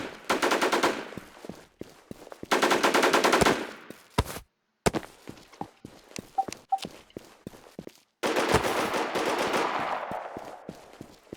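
Rapid bursts of automatic gunfire crackle in the video game Infestation The NewZ, with quick footsteps and single shots filling the gaps between the longer volleys.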